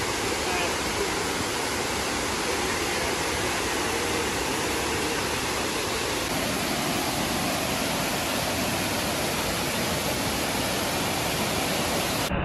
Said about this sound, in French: La cascade que vous voyez là, la Dunn's River, est complètement marron.